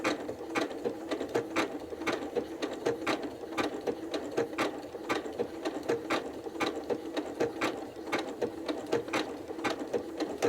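A sewing machine stitching an appliqué flower block runs steadily, its needle tapping in a fast, even mechanical rhythm close up, with no talking.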